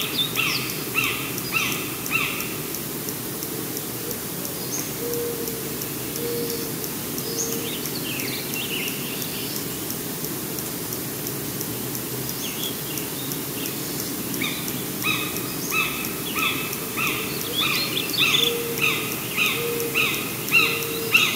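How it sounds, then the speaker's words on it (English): Outdoor field soundscape full of many birds calling at once, with repeated high chirps and trills and a low owl-like hooting mixed in, over steady insect buzz and distant ambient rumble. "So it has a lot of birds in it."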